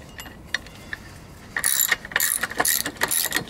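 Ratchet clicks from a 3/4 inch drive tightening a bolt into wood, starting as sparse isolated ticks and then turning into a dense run of rapid, close metallic clicking that lasts for the second half.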